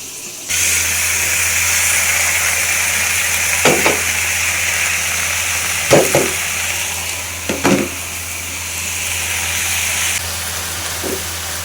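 Malabar spinach dropped into a hot pan sizzles in a steady loud hiss over a low hum, with a few sharp clattering knocks of stirring or utensils before the sizzle cuts off abruptly near the end.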